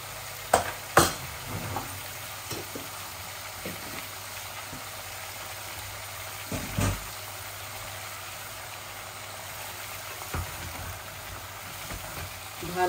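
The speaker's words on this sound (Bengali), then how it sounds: "ভালো করে এগুলাকে ভুনবো।" Chili, coriander, turmeric, curry powder and cumin frying in oil for a fish and turnip curry, making a steady low sizzle with occasional sharp clinks of a spoon stirring in the pan, without speech.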